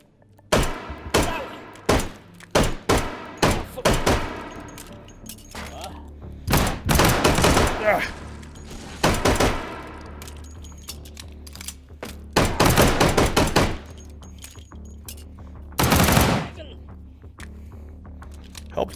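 Gunfire from shooting enemies in the VR shooter H3VR comes as sharp, loud single shots and short bursts spread irregularly, with quieter handling clatter between them.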